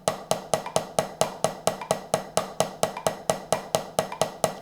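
A drum kit in a warm-up exercise plays quick groupings of five notes for every two quarter notes, a steady stream of sharp, evenly spaced, close strokes with crisp attacks and no talking.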